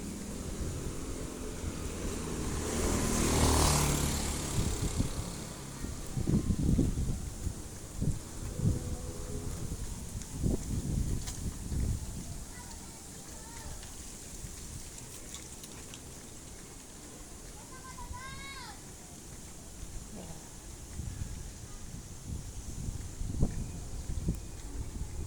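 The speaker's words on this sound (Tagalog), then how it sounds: "Medyo malakas ang hangin." Strong typhoon wind blowing outdoors at a high spot, a steady rushing gust with rustling and patter, moderately loud and continuous, with faint background sounds.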